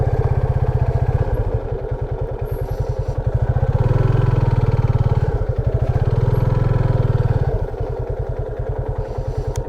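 A motorcycle engine throbs steadily while the bike rides a rough, slow mountain road, its low rhythmic pulse swelling and easing with the throttle, close and continuous, with faint rattling over the bumps.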